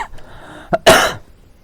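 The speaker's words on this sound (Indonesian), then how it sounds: "Batuk sumpah" One sharp, loud cough bursts out close to the mic, preceded by a brief throaty catch, then quiet during a video game session.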